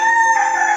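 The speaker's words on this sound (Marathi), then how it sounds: "गुड मॉर्निंग सांगतोय कोंबडा तुम्हाला." A rooster crows once, loud and close, a bright sustained call in a rural morning setting with no talking over it.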